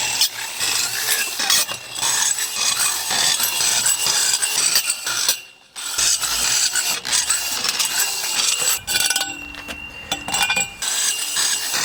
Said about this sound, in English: So we're going to drill some holes in here so that we get some airflow in the compost.